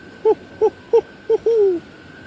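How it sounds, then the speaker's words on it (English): A barred owl calling: four short, evenly spaced hoots followed by a longer drawn-out descending note, clear and fairly close over quiet background. "There's also a barred owl calling."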